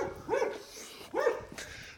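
Two sharp barks from a dog behind a fence, spaced about a second apart, fairly close and clear over faint outdoor background noise.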